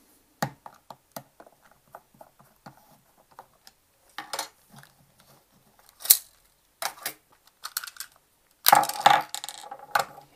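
Small clicks, snaps and plastic-and-metal taps come from a photo camera being taken apart by hand, scattered and close, with brief louder clatters and a rustling burst near the end.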